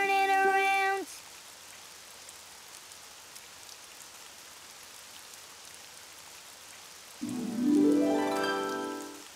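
Steady rain falls outside as a cartoon sound effect, a soft continuous patter between two short tonal musical phrases at the start and end.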